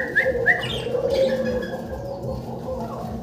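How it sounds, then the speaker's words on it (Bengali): Diamond doves in a bird market give soft, repeated coos mixed with brief higher chirps; the bird calls are fairly close and steady over a low background murmur. "ডায়মন্ড ঘুঘু পাখি নাকি?"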